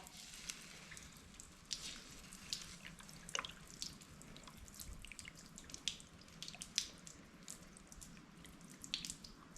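Water poured onto a melted plastic cooler lid to cool it, giving faint scattered drips and splashes with light sizzling crackles over a low background hiss.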